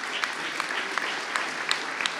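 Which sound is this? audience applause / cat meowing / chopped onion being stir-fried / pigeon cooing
audience applause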